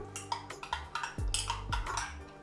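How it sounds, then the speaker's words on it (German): A spoon clinks and scrapes against a glass or cup while dalgona mango coffee is stirred, giving several close, light taps and rattles in an uneven rhythm, with a low hum in the background. "So, muss richtig umrühren"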